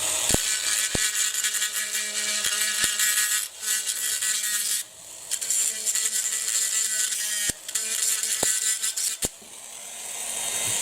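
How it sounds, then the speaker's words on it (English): A Dremel rotary tool grinds out melted plastic lugs on a Hot Wheels Elite diecast model car, a high steady whine in several long bursts broken by brief pauses and sharp clicks, close and loud. "we'll use the Dremel and we'll grind those out"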